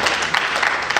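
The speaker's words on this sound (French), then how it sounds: "On applaudit la championne." At a civil wedding ceremony in Brazzaville, a crowd claps for the bride in a brief, dense burst of steady applause that fills the room.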